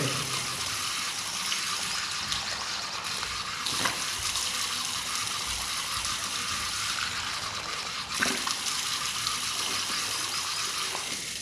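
Water is poured over the hands and face during Islamic ablution (wudu), a steady soft splashing and trickling that runs throughout, with a few louder splashes.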